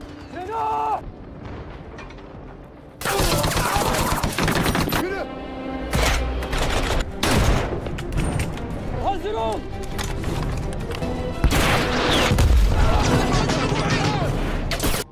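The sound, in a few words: gunfire from a war film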